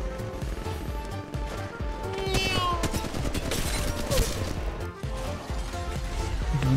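Gunfire in Apex Legends Mobile, a fast automatic burst of loud, tightly spaced shots over game effects, pausing briefly before more firing.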